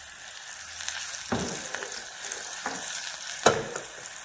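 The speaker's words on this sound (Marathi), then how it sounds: "हे बघा अशी खमंग फोडणी यावरती ओतायची." A hot spiced tempering (phodni) for kadhi crackles and sizzles close by, with sharp bursts of hiss as it is poured and stirred, over a steady low fizz.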